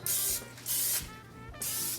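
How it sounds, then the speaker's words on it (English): Cooking spray from a can sprayed onto a baking pan in three close, loud hissing bursts with short pauses between them. "Spray it real good"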